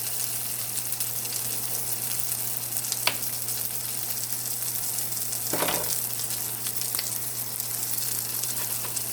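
A New York steak sizzles steadily in a hot pan as it is basted with butter, giving a constant close frying hiss with a few louder spoon-scrape and spatter bursts.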